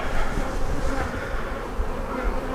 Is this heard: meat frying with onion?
no